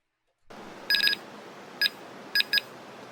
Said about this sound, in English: You hear the little beeps. That's from the REM pod.